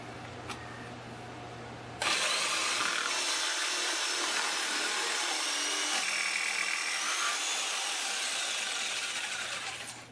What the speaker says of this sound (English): that, of course, is just a simple cut with the jigsaw to get them out.